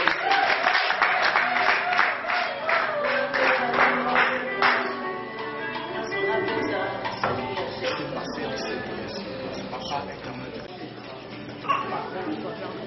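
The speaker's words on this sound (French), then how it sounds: "On acclame bien très fort" A church gathering marking a birthday breaks into loud, sustained clapping from a crowd, with voices and dog barks and whimpers mixed in alongside.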